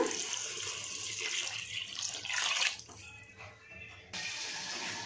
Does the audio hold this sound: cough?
no